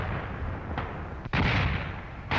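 Artillery fire across a World War I battlefield near Verdun, heavy booming blasts and rumble with a few sharp louder bursts, dense and continuous at moderate distance.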